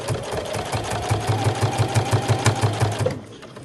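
Close up, a sewing machine stitches along the lining edge of a backpack, with a steady, rapid needle rhythm that runs continuously for about three seconds and then halts.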